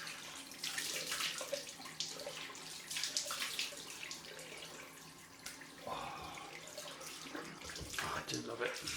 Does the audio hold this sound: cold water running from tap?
yes